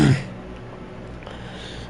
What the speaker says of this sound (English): You can't make me cough during this, dude.